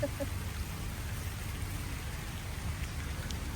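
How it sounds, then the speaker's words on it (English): Steady rain falls outdoors at a lakeside campground, a soft, even hiss of drops on surfaces that holds constant throughout, fairly quiet and without voices. "Oh, here comes the rain."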